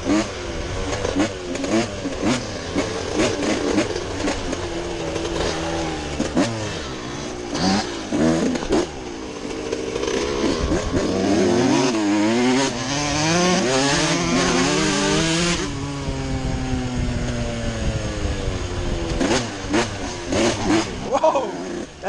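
Yamaha YZ125 two-stroke dirt bike racing across a field, a loud, raspy, buzzing engine that rises and falls through repeated revs and shifts, with voices talking over it at times.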